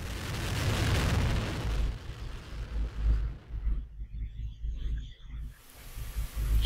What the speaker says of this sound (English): Engines start and liftoff of the Delta II rocket with SMAP